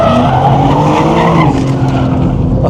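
A tuned BMW M4 brakes hard and corners on a race track, its engine roaring loudly and close with sustained tire squeal and skidding as the car pivots through the turn.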